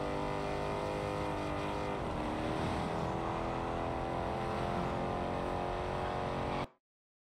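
Mercedes SLK 55 AMG driving in the Test Drive Unlimited video game: a continuous engine drone holding steady and building slightly in pitch, then cutting off abruptly near the end.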